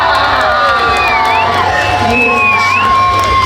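A crowd at a Halloween Horror Nights 2024 scare zone cheers loudly for the costumed queen, with sustained whoops, shouts and high excited voices, dense and continuous close around the listener.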